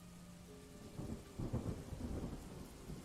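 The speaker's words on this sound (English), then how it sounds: "a flash of lightning cracks down, and rain starts. And you hear thunder start to erupt" A stormy downpour hisses steadily outside a mountain cave while low thunder rumbles and rolls up from the distance, growing heavier midway, with no voices.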